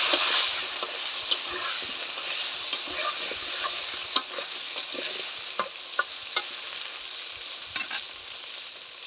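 Washed, cut potatoes and eggplant frying in oil with cumin seeds, a steady moderate sizzle punctuated by regular clacks and scrapes of a spatula stirring.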